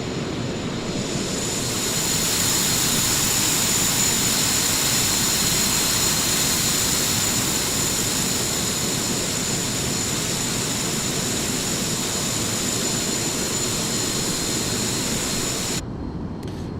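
Steady, loud turboprop engine drone from a simulated Beechcraft King Air in Microsoft Flight Simulator, a continuous roar with a faint high whine throughout and no voices.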